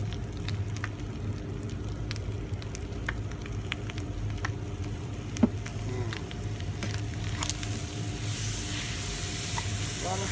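Tomato and soy sauce being stir-fried in a wok, giving a steady quiet sizzle with occasional sharp ticks and scraping clicks from stirring, one louder clank midway.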